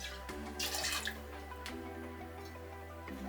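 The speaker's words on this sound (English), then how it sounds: "Now we're going to be adding the vermouth, and we're going to want 15ml of that." Vermouth is poured into a mixing vessel for a dirty martini as a short liquid trickle, with brief splashy bursts near the start and again mid-pour, close and fairly quiet.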